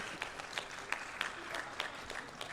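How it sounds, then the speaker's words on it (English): A small audience at a healthcare construction business session gives a brief round of applause, faint and distant, with scattered claps over a steady background murmur. "let's give a quick round of applause to our tech help in the back who kept us on track"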